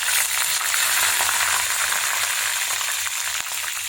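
Curry leaves, chillies and fenugreek seeds crackling in hot oil for a vendhaya kuzhambu tempering, a dense, loud, continuous spluttering sizzle with no voices.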